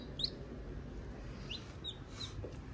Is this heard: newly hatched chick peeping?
yes